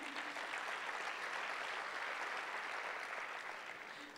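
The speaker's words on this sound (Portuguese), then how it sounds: "Pode dar uma salva de palmas para Davi?" A church congregation claps during an evening service, producing a dense, even wash of applause that holds steady and then fades slightly toward the end, with no voices.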